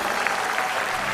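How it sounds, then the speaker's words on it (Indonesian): A talk show studio audience applauds a guest entertainer, dense continuous clapping throughout a short burst, fairly loud and close. "tepuk tangan buat TJ"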